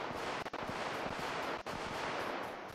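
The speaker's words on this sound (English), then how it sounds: "Oh no, someone is shooting now." Gunfire in the PC game PUBG PC Lite: a dense, steady stretch of shooting with rapid repeated shots and a couple of sharp cracks, loud and continuous throughout.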